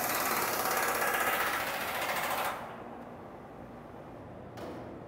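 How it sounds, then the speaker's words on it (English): A pneumatic air gun works on the bolts of a transformer bushing with a loud, close, rapid hammering rattle for a few seconds, then cuts out, leaving a softer rumbling background and a brief faint burst near the end. "Attempt to remove the bolts again using a pneumatic air gun"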